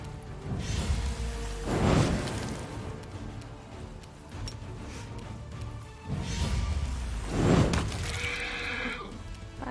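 Horses neigh twice in the video game Pathfinder: Wrath of the Righteous, each whinny loud and close and a few seconds apart, over steady game ambience with light clip-clop and a faint whoosh.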